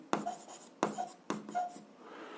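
Three separate bursts of pen or pencil writing by hand on paper while working an algebra exercise, each a quick scratching stroke followed by fainter trailing marks, close and alone with no voices.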